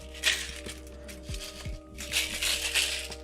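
Rapid crackling riffles of cards being shuffled, in a few short bursts, close by and fairly quiet, over a steady low hum.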